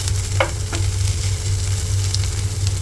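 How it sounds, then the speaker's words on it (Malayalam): Okra stir-fry and fish fry together in a pan on a home stove, giving a loud, continuous close-up sizzle with a couple of light utensil clicks and no voices. "വെണ്ടയ്ക്ക ഉപ്പേരിയുടെ ഒപ്പം ഫിഷും ഫ്രൈ ചെയ്യുന്നുണ്ട്"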